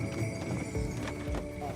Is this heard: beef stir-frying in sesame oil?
no